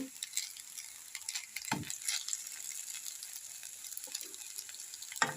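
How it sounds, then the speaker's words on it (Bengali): Soy sauce hitting hot oil in a pan of chow mein noodles, a soft hissing sizzle with light scraping stirs and small clinks, close but fairly quiet. "ফার্স্টে সোয়া সসটা দিচ্ছি"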